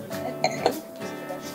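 Glasses clinking together in a toast, two bright chinks close together followed by a fainter ring, near and clear with no talking.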